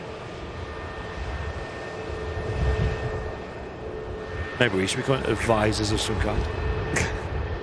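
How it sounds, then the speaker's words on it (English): A British Airways jet arrives at Manchester Airport from London Heathrow, a broad engine roar that swells steadily in the distance while people chat nearby. "British Airways arriving in from London Heathrow, of course."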